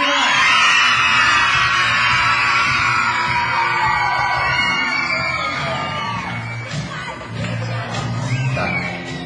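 A group of people at a camp gathering shouts and yells together loudly and continuously, crowd voices overlapping throughout, with some talk mixed in toward the end.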